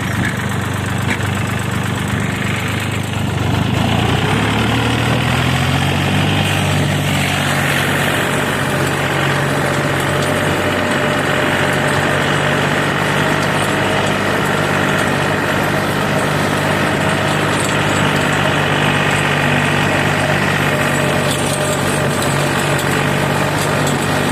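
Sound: small tractor ploughing with new Korund plough

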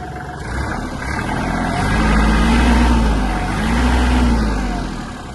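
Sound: small tractor engine idling

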